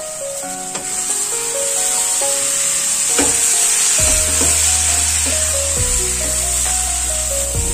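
Chicken gravy with ground cumin is stirred in a sizzling pan, giving a continuous close hiss with scraping movements and tonal background music underneath.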